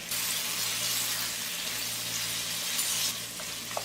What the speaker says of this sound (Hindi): 1 से 2 मिनट और इसे भूनेंगे।